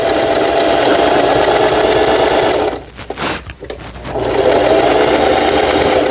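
A Singer 4432 sewing machine runs a quilting triple stitch with a fast, loud, even mechanical whir, pausing for about a second midway before starting up again.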